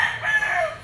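A rooster at a chicken auction market in Lipa gives a single short, loud crow, close by and alone.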